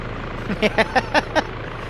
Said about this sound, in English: both choppers just try to engage each other